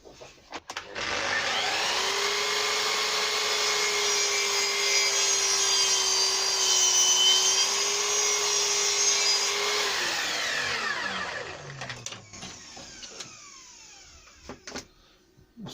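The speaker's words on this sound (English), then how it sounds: "I think it's 25mm MDF that I'll make a top plate. I'm just cutting these to length." A power saw with a dulling blade cuts 25mm MDF to length for a shelf top plate, a loud steady whine for about nine seconds that then spins down, followed by a few knocks and clatters.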